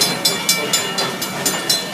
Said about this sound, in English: brand new Western Cullen Hayes mechanical bell.